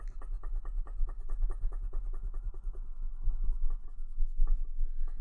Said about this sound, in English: let's get rid of these pencil marks